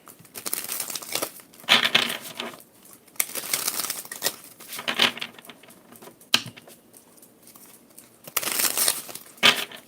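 Tarot cards shuffled by hand in several bursts of papery riffling and crinkling, with pauses between, close and fairly quiet.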